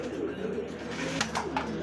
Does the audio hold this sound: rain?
no